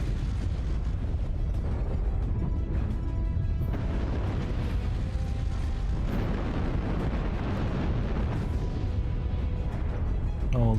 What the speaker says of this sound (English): Nope, it was an airstrike.